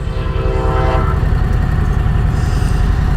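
A train passes close by a dirt road, a loud steady rumble and clatter of rolling wagons, with a horn sounding during the first second.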